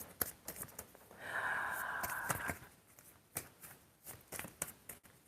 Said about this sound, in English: we're gonna shuffle them, and I'm only gonna take 2 or 3.